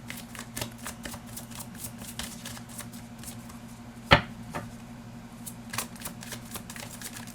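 Tarot cards being shuffled up close: a continuous run of quick papery riffles and flicks, with one sharper snap partway through, against a steady low hum.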